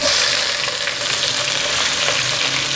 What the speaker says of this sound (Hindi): आप देख सकते हैं कि प्याज हमारे अच्छी तरह फ्राई हो चुके हैं।